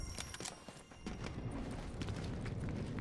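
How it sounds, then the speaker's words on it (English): Footsteps in the video game Fortnite, a run of quick, dull thuds and clip-clop-like steps repeating steadily over noisy game sound, fairly close and moderately loud, with no talk. "I hear footsteps."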